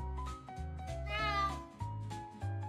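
A cat meows repeatedly, several clear, close meows with rising and falling pitch, one longer wavering call in the middle, heard alone.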